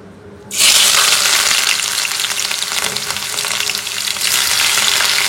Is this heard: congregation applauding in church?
no